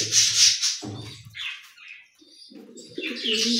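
A pair of large pigeons, a Baghdadi hen and a Beauty Homer cock, give close, low cooing calls mixed with brief wing flutters and shuffles, with no talk.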